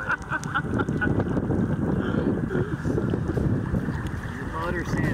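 Steady, heavy wind buffets the microphone aboard a small sailboat on cold water, a constant low roar that fills the whole stretch. Faint water and rigging sounds mix into it.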